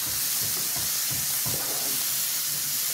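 Taro stems frying with hilsa fish in hot oil, a loud, dense, continuous sizzle and hiss close up, with faint stirring knocks underneath.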